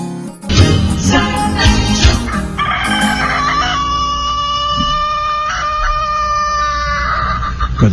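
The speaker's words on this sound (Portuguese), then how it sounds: "ouve o canto do galo" A rooster crows loudly and close by, its long drawn-out cock-a-doodle-doo rising and then trailing off, with clucking and other farmyard fowl sounds mixed in.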